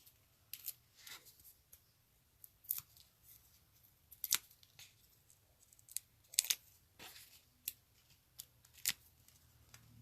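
Scissors snip through craft adhesive dimensional pads in a run of quick, crisp cuts spaced irregularly, close and fairly quiet, with no talking.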